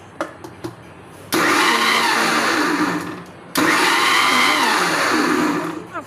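An electric blender whirs loudly as it beats eggs and sugar for cake batter, running in two long bursts of a few seconds each with a brief pause between them, and no talking.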